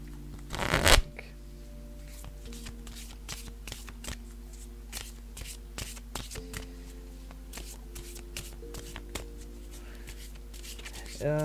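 Tarot cards are shuffled for a card reading: a sharp riffle burst at the start, then soft, steady card taps and slides, close up and fairly quiet, with speech in the background.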